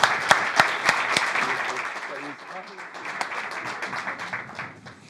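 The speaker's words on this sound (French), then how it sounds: "Je vous demande de l'applaudir bien fort." An audience at a televised French talk show applauds a university guest, the clapping starting with a few sharp, loud claps and settling into a steady, moderately loud patter that fades slightly, while speech is heard under it.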